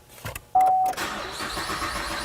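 A 2010 Chevy Camaro starts with a push-button iKey: a short beep, then the engine cranks and catches into a steady, close idle, with no talk.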